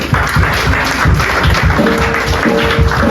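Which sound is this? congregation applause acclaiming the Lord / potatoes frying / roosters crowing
congregation applause acclaiming the Lord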